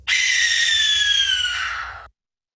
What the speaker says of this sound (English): Suddenly, you hear a horrible scream.